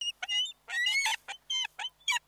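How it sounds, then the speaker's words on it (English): A bird call fitting an eagle, several short harsh honking cries in quick succession, heard alone and fairly close. "Eagle."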